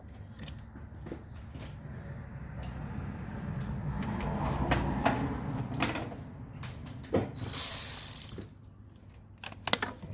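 A ratchet with a deep socket on the turbo bolts of a MK4 GTI, giving a few short clicking bursts and mechanical rattles, close up, plus one louder scrape near the end.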